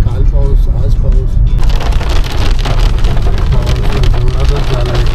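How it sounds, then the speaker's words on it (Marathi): Heavy rain pours steadily in Cherrapunji, a dense continuous hiss of drops on surfaces, with faint vehicle noise underneath and people talking throughout. "काल पाऊस, आज पाऊस,"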